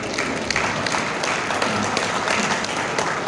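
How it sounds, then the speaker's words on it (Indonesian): An audience applauds at a cooperative launch during a disability day event in Indonesia, a steady, moderately loud wash of many hands clapping with a roomy, slightly distant feel. "Tepuk tangan."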